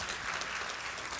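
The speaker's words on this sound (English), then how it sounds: "So that deserves a round of applause." Dense applause from a crowd fills the whole moment, a steady wash of many hands clapping at once.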